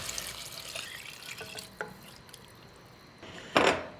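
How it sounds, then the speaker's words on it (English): Water poured into a pot of Moroccan spices on the stove, a steady running splash that builds and swells loudly near the end. "Cook the spices just a little bit until you add 5 cups of water."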